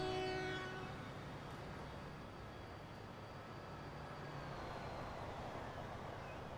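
Trains running in the Transport Fever video game, a steady rumbling rail and engine drone with a brief horn-like tone at the start, continuous and moderately loud with no talking.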